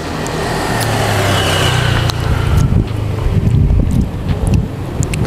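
Steady wind rumbles across a hilltop lookout in Semarang, a continuous low gusty roar buffeting the microphone with slight surges, no voices.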